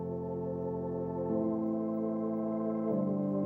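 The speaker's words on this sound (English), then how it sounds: "We've got a pad sound." Sustained synthesizer pad chords, warm and smooth, shifting to a new chord twice with no gaps, steady volume and no voices.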